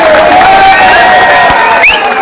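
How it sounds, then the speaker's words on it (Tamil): A dense crowd claps and cheers loudly in welcome as police take away people accused of rioting, a continuous roar of applause with shouting voices mixed in throughout. "கைத்தட்டி வரவேற்கிறாங்க."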